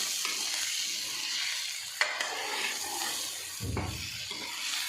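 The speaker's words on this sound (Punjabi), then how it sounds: "ਜਦੋਂ ਅਸੀਂ ਅਰਬੀ ਨੂੰ ਫਰਾਈ ਕਰਦੇ ਹਾਂ ਤਾਂ ਇਹ ਜ਼ਿਆਦਾ ਤੇਲ ਨਹੀਂ ਲੱਗਦਾ" Taro root (arbi) frying in a small amount of oil, giving a steady close sizzle broken by a couple of knocks and scrapes as it is stirred in the pan.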